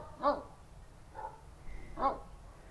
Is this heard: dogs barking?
yes